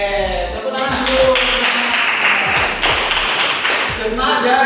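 A fourth-grade elementary class claps hands together in a patterned rhythm of sharp, close taps, with children's voices mixed in.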